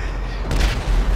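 Explosions from a runaway train mod in the video game GTA V, a sudden loud booming burst midway through a dense rumbling background, with no voices over it.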